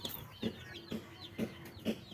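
A small chick peeps in short, high cheeps, about two per second, steady and close, with a low clucking undertone beneath each call.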